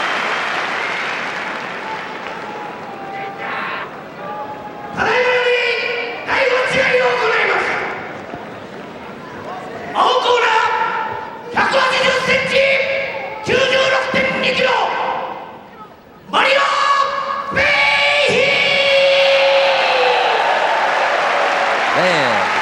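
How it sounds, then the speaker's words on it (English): A large arena crowd at the Pride 20 mixed martial arts event cheers and roars in repeated loud surges, with music and announcer talk mixed in. "Crowd likes this guy."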